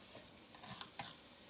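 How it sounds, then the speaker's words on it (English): Bell pepper strips sizzle in a hot frying pan with a steady, faint crackling hiss and a few soft stirring scrapes, no voices. "My peppers are sizzling really nicely on the pan here."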